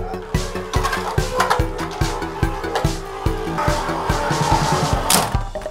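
A Beyblade Burst Rage Longinus spinning top whirs and rattles around a plastic arena, giving a steady, fast run of scraping pulses that stay close and fairly loud throughout.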